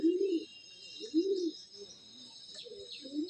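A male pigeon coos nearby in low, rounded calls, three or four phrases with short pauses between them, over a faint high insect-like hiss.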